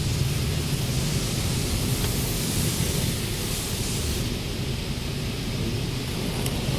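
Steady, loud water spray hissing continuously at a car wash during a Buick oil change, a broad unbroken rush close by with no voices.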